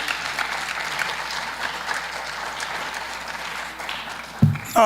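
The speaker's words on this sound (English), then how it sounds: "let's give my team members a round of applause" Applause from a seated audience for a team brought onstage at a corporate talk, fairly distant and steady, with a couple of louder bumps near the end.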